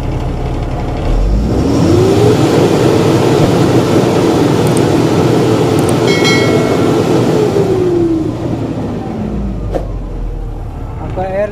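A Mahindra Blazo BS4 truck engine, which has a fault, held at full throttle: a loud, close, steady roar that rises, holds for several seconds and then drops back, with someone talking over it.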